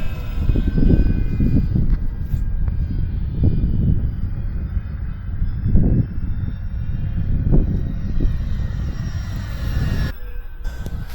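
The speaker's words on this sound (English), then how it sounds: "going to come around and do a flyby here. About half throttle." E-flite F4U Corsair 1.2 m radio-controlled plane on 4S power making a flyby at about half throttle, its electric motor a steady droning whine that swells and fades as it passes, heard outdoors over wind buffeting.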